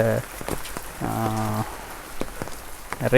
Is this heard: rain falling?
yes